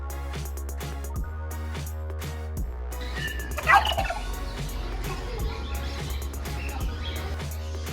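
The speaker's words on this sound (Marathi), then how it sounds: "बर्ड पार्क मध्ये खूप सारे बर्ड होते खूप जास्त प्रकार प्रकारचे होते पक्षी आणि हे सर्व आवाज देत होते" Many birds in a bird park at Ramdham, Ramtek, near Nagpur, call at once: loud turkey-like gobbling bursts over a busy bed of chirps and other bird calls, close by and continuous.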